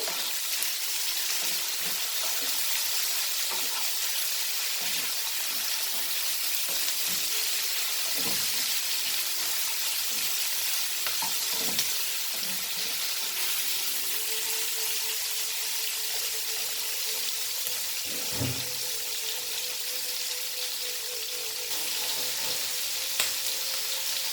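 Tomatoes and bell peppers stir-frying in a pan for Singapore noodles, a soft continuous sizzle with scattered spatula taps and scrapes, steady and moderately quiet throughout.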